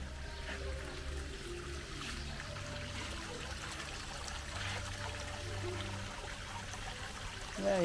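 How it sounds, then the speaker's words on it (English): Outdoor seating area with water features, a soft continuous trickle and splash of running water spread evenly throughout, with a low hum underneath and a brief louder knock at the end. "you've got all these like water features around you."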